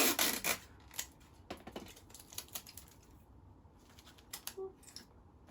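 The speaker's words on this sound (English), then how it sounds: "put sticky tape, make sure it's nice and stuck on properly" Sticky tape is pressed and rubbed onto a paper plate craft, giving quiet crinkling, scratchy rubs and taps in short uneven bursts, close up with no talking.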